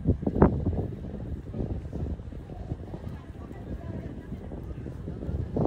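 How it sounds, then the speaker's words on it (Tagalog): Gusty wind buffets the microphone with a low, rumbling roar throughout, steady and fairly strong, with no clear talk, on a glass walkway at Monte Maria. "Ang lakas ng hangin."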